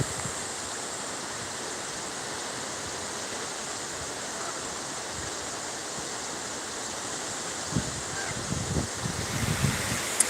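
Water flows steadily past as a constant broadband rush, close and even throughout, with a few soft knocks and bumps near the end and no talking.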